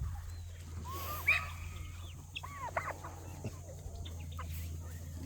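A rooster on a homestead crows and clucks in short, scattered calls over a low steady hum, moderately near, with a few other bird chirps.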